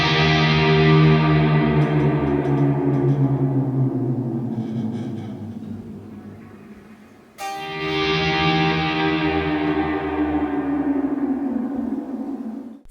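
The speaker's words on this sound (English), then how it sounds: "I put a ton of reverb and delay on it just so it would sound huge live" Electric guitar drenched in heavy reverb and delay rings out in two huge sustained chords, the first swelling and slowly fading before a second strike blooms again, loud and washy with no talking.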